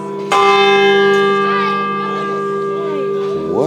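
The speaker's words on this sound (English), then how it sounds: "Oh, the bells are going off here." A church bell in Germany rings out loudly and close, its tone lingering and humming through the whole stretch, with faint voices beneath.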